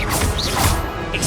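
A spell impact from the Hogwarts Legacy video game lands as a dense, loud crash and smash with a thick low rumble, holding steady for just over a second.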